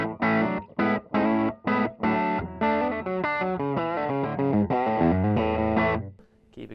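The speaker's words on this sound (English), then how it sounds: "It's getting more distorted, but still very much an overdrive sound." Electric guitar through an Emerson Custom Pomeroy overdrive pedal at a moderately distorted setting, strummed chords starting in short, stabbing hits and then running into a denser, ringing chord sequence, close and alone.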